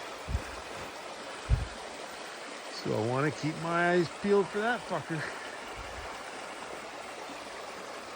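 Creek water flows steadily through a wilderness area where cougar tracks mark the sand, a continuous wash of water running beneath a man's nearby speech.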